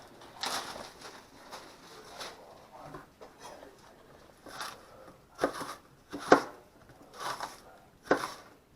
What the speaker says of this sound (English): Then we're going to cut up about half of an onion here.